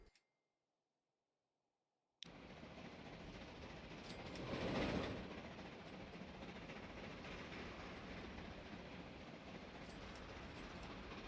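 Passenger trains run in the Transport Fever 2 video game, heard as a continuous rumble of rail wheels and rolling stock after a short silence. The sound swells briefly, then carries on steadily with no talk.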